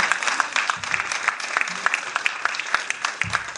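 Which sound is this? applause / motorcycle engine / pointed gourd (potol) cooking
applause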